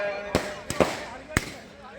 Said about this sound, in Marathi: फटाक्यांची आतसबाजी आकाड्यामध्ये तुम्ही पोचावी